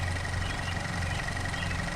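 A car engine idles steadily just after being started on a new battery, while an oil pressure fault shows at idle; a close, even low hum with a faint higher whine runs throughout, with no talk.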